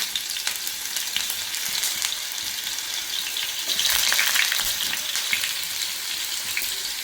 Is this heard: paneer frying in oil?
yes